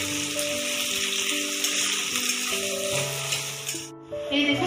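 Onions frying in hot oil, cooked until browned for a Bengali mutton kosha, give a steady sizzle beneath sustained tonal sounds. The sizzle holds close and even, then briefly dips near the end before resuming.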